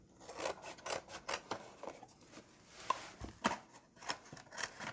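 Repeated scissor snips cutting through a cardboard box, a steady series of short crisp cuts close by with no talking.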